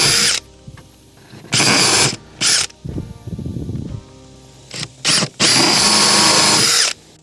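A cordless drill whines in several sharp bursts, driving screws into a homemade wooden plant tray, with a softer ratcheting stretch between runs and a long final burst near the end.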